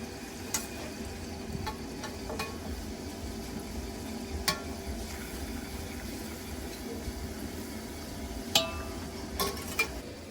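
Green garlic sizzling steadily in a pan during preparation of baingan bharta, with occasional sharp clinks of a spoon against the pan over a constant low hiss.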